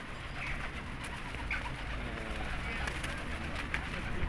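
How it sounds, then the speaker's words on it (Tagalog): Lots of pigeons cooing and fluttering together outdoors, a steady dense flock murmur with people talking over it. "Wow, ang daming kalapati."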